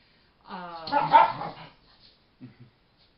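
A grumpy female dog lets out a short run of close yips and barks with a whimpering edge, then two softer low woofs after a brief pause.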